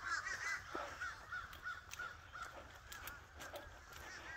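A flock of birds at a Florida nature preserve gives a run of rhythmic caw-like calls, fairly loud at first then thinning out, over a steady outdoor background hiss.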